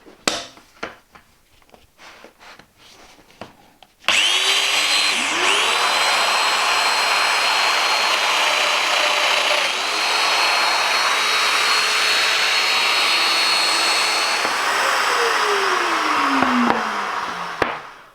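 After a few soft knocks and handling sounds, a Festool plunge saw spins up to a loud, steady whine, its pitch dipping and rising as it cuts through a board, then winding down at the end.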